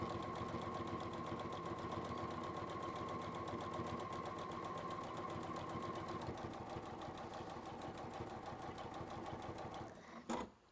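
A sewing machine runs continuously as it stitches a seam, its fast, even mechanical chatter close and steady for about ten seconds before it stops abruptly.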